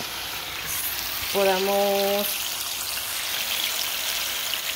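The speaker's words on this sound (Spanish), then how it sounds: "Ahí se están friendo las chuletas." Pork chops searing in a hot frying pan give a steady, close sizzle that runs the whole time, with a short tonal beep sounding briefly midway.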